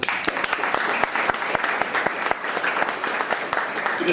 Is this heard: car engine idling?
no